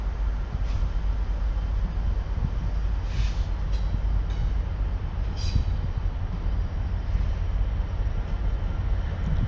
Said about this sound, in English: Our first container train of the day.